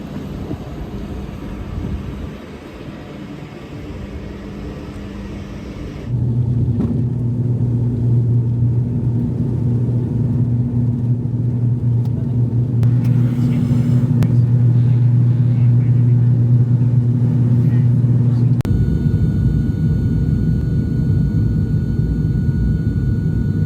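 Steady low rumble of a hire car driving on roads around Belfast, Northern Ireland, a constant drone that grows heavier after a few seconds and carries on evenly, heard alone without talk.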